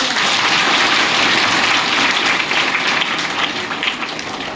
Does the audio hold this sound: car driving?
no